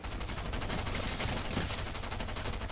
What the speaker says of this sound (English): Drum gun!